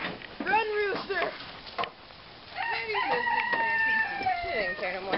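A rooster crows loudly and repeatedly, its drawn-out calls mixed with clucking and people talking nearby.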